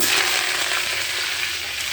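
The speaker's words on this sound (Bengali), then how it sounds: "মরিচ ভাজা হয়ে গেছে, এবারে শাক দিয়ে দেবো" Steady, dense sizzling of leafy greens frying in hot oil with dried red chilies, loud and close, with a continuous crackling hiss and no voices.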